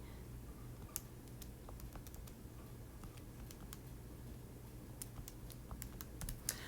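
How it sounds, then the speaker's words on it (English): Someone taps keys on a calculator keypad, producing faint, sparse clicks in quick irregular bursts over a quiet room hum. "So if we use the calculator, I'm trying to type that in here quickly."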